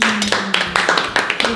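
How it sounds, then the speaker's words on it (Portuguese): A small group in a mansion turned into a pizzeria claps at the end of service in a quick series of about seven sharp, close claps, with a voice audible underneath. "Palmas."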